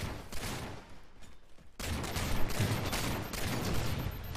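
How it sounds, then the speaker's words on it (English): Pistol gunfire in the Halo 4 video game during an Infinity Slayer match on the Abandon map, dense bursts of shots and battle noise that swell abruptly partway through and stay loud, with no talking. "So I take my pistol out, headshot."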